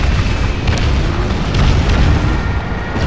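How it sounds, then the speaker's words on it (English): A grenade explosion in Call of Duty 2: Big Red One on PS2, a loud, sustained rumbling boom that fills the whole stretch with no speech over it. "Oho, heiti granaatin sitten."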